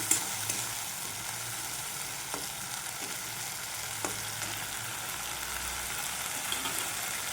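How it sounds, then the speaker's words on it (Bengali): Spice paste for mutton curry frying in a pot, an even, fairly quiet sizzle running throughout with occasional light stirring knocks, no voices. "মশলাটাকে পাঁচ মিনিট ভালো করে কষে নেবো"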